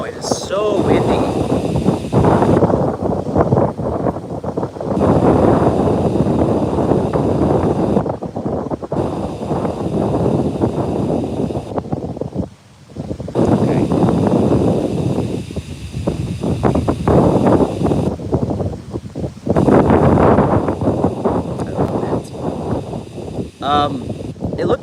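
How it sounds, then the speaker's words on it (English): Strong wind buffets the microphone in loud, sustained gusts, with a person talking over the roar. "Wow, it is so windy."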